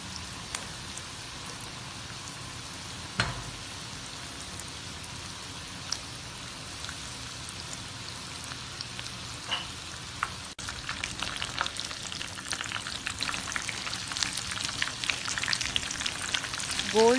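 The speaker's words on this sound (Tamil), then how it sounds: "லோ டு மீடியம் வச்சு ப்ரான்ஸை ஃப்ரை பண்ணுங்கள்." Prawns frying in oil over a low-to-medium flame for a crispy prawn fry make a continuous rain-like crackle. A few sharper pops stand out, and the spatter grows denser and louder in the last few seconds.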